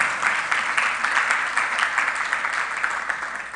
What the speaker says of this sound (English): Shall we clap for her as she takes her seat?